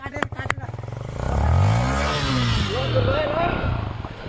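Modified offroad motorcycle with a misfire silencer riding through mud, its engine note rising and falling as the throttle is worked, heard fairly close amid clatter and rushing outdoor noise.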